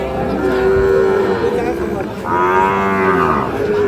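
Sahiwal breed calves low loudly at a cattle market, two long drawn-out moos close by, the second rising and wavering, over steady crowd and market noise.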